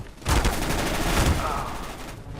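A PP-Bizon submachine gun fires in Counter-Strike: Global Offensive, one loud, continuous automatic burst lasting about two seconds before fading.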